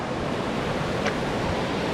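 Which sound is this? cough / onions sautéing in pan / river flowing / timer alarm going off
river flowing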